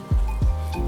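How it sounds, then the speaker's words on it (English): A whisk scraping briskly through salad dressing with herbs and black pepper in a bowl, three quick rhythmic strokes, close and moderately loud, with no talk. "I'm gonna give all of that a whisk."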